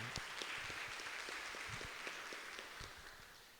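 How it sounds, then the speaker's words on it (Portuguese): A church congregation applauds with scattered, steady clapping that slowly tapers off in a reverberant room. "Vamos fazer então uma salva de palmas para acolhê-lo com muito carinho"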